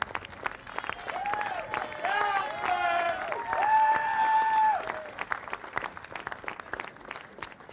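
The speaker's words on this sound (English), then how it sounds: "Fabulous to hear the Oxford supporters cheering them here." Oxford supporters cheer and clap for the runners-up crew at the Women's Boat Race, scattered applause under prominent overlapping voices and calls, with the clapping thinning out toward the end.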